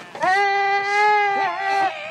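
Goats bleat loudly and close by at a Mongolian nomad family's herding camp during the cashmere wool harvest, one long wavering cry running almost unbroken with other bleats overlapping near its end.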